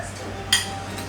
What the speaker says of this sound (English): I'm just gonna kind of mix this in here as best I can.